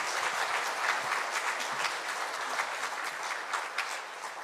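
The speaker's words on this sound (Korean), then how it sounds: "우리 샤론 워십 선교단에게 다시 한번 큰 박수 축복하겠습니다." A church congregation applauds the Sharon worship dance team at an anniversary Sunday service, with steady, dense clapping that fills the room from start to finish.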